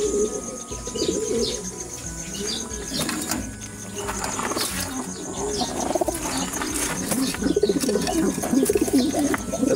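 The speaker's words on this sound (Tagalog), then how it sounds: "Ibon to ni Simon, no?" Racing pigeons coo in soft, repeated low calls at close range, with occasional chirps and scuffling around them.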